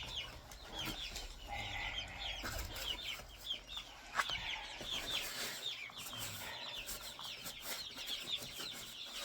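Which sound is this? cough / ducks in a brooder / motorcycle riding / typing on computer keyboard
ducks in a brooder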